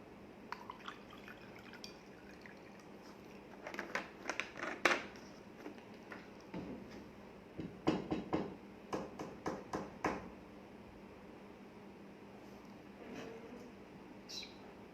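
A host pauses during an evening talk show to drink a little water: quiet sips and swallows come in two short bursts against a soft room hush.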